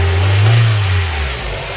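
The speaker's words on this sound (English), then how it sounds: "Warming up nicely. Give her a little rev." A fifth-generation Honda Prelude's H22A engine revs up from a warm idle, a close, loud, smooth rise and fall of engine tone lasting under two seconds.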